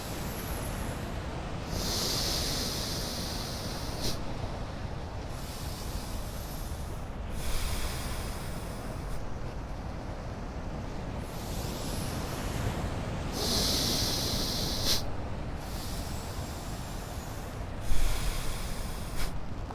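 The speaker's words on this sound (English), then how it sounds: "Close the right nostril and exhale" Alternate-nostril breathing during a meditation session: long, airy inhales and exhales through the nose, close and loud, repeating in slow cycles of several seconds with brief pauses between.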